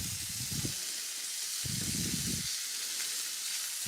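Corn sizzles in olive oil in a hot cast iron pan, a constant bright hiss with low bursts of spattering and crackling that swell and fade a few times.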